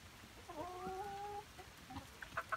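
Chickens clucking and calling in a backyard setting, a drawn-out squawk followed by a few short clucks, faint and a little distant, with no talk.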